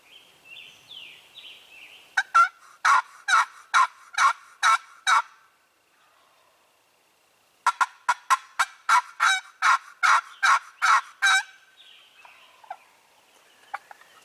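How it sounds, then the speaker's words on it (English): Wild turkey gobbling during a spring hunt, two rapid bursts of repeated loud, rattling gobble notes separated by a quiet pause, over faint background bird calls. "He's gobbling. He's still there. He responded to that."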